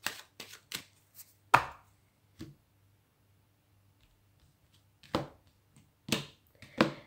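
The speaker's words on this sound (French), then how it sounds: "je vais faire une coupe avec mon tarot" Sharp, dry slaps and snaps of a tarot deck being cut and shuffled on a table, a quick cluster of clicks, a pause of silence, then a few more crisp card taps, close and quiet.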